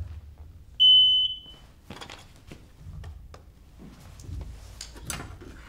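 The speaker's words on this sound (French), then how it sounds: "le démineur teste systématiquement le détecteur pour s'assurer qu'il soit bien fonctionnel" A deminer's metal detector being tested before entering a corridor gives one clear electronic tone near the start, a steady beep with a short second pulse, followed by faint scraping and shuffling handling sounds.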